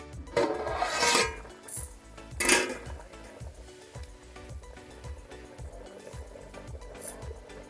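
Lid lifted off a pot of mutton dum biryani partway cooked, with metallic clatter and scraping in a few loud bursts early on, followed by a softer steady bubbling and rhythmic stirring sounds.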